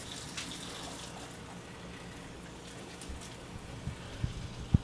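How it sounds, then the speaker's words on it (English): Water runs steadily from a tap while hair is rinsed between washes, a soft continuous splashing with a few louder bumps near the end and no talking. "Rinse this off and then do another wash."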